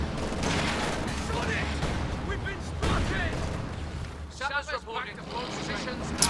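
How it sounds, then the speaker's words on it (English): Several sharp PIAT anti-tank launcher blasts and explosions in a Company of Heroes 2 battle, mixed with steady combat noise and background chatter. "Sounds like this squad has a Piat on it as well."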